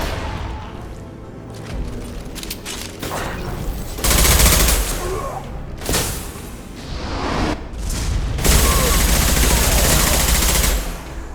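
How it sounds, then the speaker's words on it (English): Concussive shot in a Mass Effect combat scene, a loud blast among sustained gunfire, bursts and whooshing impacts, close and heavy throughout, with brief voices in the mix. "Firing concussive shot!"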